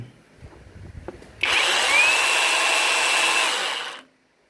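A Makita cordless hammer drill spins up suddenly after a few quiet handling taps, then runs at a steady high-pitched whine for about two and a half seconds before cutting off, close and loud.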